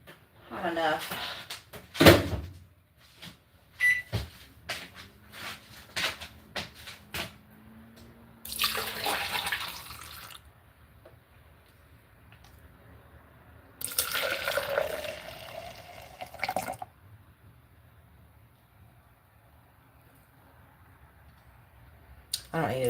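Hot tap water running into a basin, with bursts of gushing flow between quieter stretches and someone talking throughout, close by indoors.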